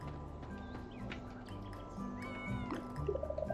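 A cat meows in the Coral Island farming video game, faint and brief under steady background music with light chirping game sounds.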